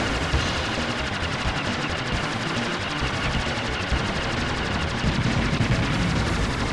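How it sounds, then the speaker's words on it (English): A bomber boss in the Aero Fighters arcade game fires fireballs amid a constant, dense wall of loud rapid-fire shooting and explosion noise that continues without a break. "It's just shooting random fireballs at"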